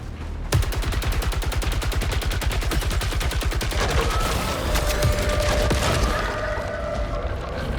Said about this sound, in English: Okay, this rifle is not too bad, but still.